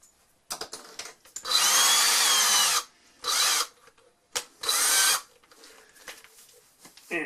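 A power drill with a bit fitted, used while assembling a vertical blind, whirs in three sustained bursts separated by short pauses and handling clatter.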